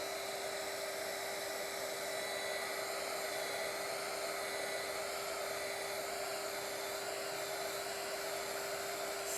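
Hair dryer blowing on cotton fabric soaked with a polycrylic coating, a steady close whooshing roar with a constant high whine that holds unchanged throughout, with no talking.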